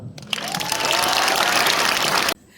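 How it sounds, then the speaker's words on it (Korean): A crowd at a political talk show in Daegu claps loudly and steadily for over two seconds, then the applause cuts off abruptly. "여러분의 박수"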